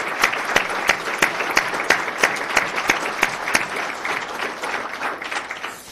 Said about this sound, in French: je pense que ça faut une main d'applaudissement